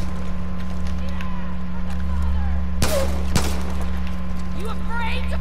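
Enemy gunfire in the game Far Cry 5: two sharp, loud shots about half a second apart stand out over a constant droning game hum, with faint voice-like sounds in the background.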